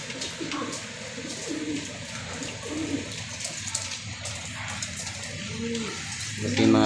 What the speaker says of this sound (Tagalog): Dekalidad na mga pigeons niya.